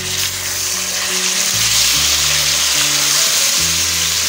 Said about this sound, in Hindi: टमाटरों को अच्छी तरह से भूनेंगे।